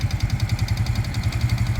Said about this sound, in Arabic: غتسمعوا مزيان الصوت ديال الماكينه كيفاش داير